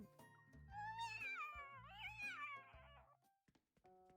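A cat cries in Love and Deepspace with a long, drawn-out, wavering meow that rises and falls, close and fairly quiet, followed by a few soft clicks.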